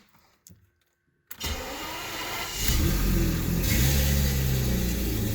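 A BMW 750iL E32 engine with a new fuel pump cranks and catches, then revs up loudly and settles into a steady, strong running roar nearby.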